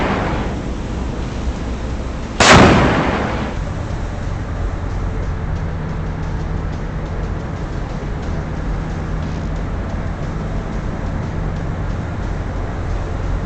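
A submarine in the naval game Cold Waters fires a VLS missile and a torpedo tube: one sudden loud launch blast that roars out and fades into a steady low rumble of the boat.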